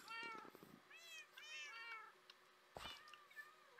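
Cats meow in the Minecraft video game, several short, bright, rising-and-falling mews in quick succession, fairly close and quiet, with no talking.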